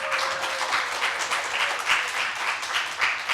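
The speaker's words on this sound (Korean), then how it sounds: "큰 박수로 맞이해 주십시오." A church congregation welcomes a skit with applause, an even, continuous stream of hand clapping across the hall at moderate loudness.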